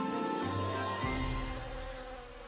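Honeybees buzz around a hive in a commercial pollination operation, a steady close drone of many wings with a slight shift in pitch partway through.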